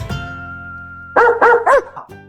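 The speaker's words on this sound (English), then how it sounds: "Did I hear a doggy bark?" A dog barks three times in quick succession, loud and close, after a quieter stretch of music.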